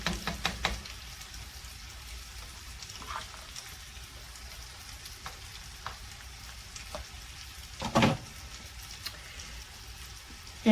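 Chopped pepper, garlic and celery sizzle steadily in a pan for corn chowder, a soft continuous frying hiss with a few light knocks from utensils and no voice.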